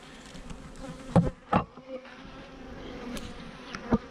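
Worker honey bees at the hive, bringing in nectar, make a soft, steady buzz with a few louder passes as individual bees fly close.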